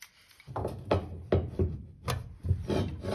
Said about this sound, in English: this big, beautiful, ancient, really nice pipe wrench will take off that jumbo nut right there.